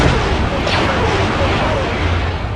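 Starship cannons firing on a space battlefield against a Separatist fleet, a dense, loud continuous rumble of blasts and booms filling the whole moment without a break.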